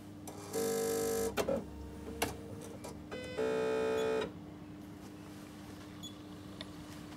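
A Bernina 7 series embroidery machine powers up and warms up: two long steady electronic whirring tones, each lasting about a second, separated by short clicks and mechanical knocks, against a quiet room hum.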